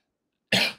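A single sharp cough bursts out after a half second of silence, then trails off quickly.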